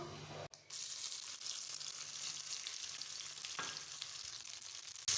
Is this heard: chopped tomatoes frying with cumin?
yes